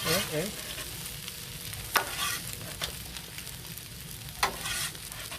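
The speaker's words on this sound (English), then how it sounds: "Let's give that a stir." Christmas paella is stirred on a griddle, a faint steady sizzle under a few distinct scraping strokes of a utensil across the flat metal.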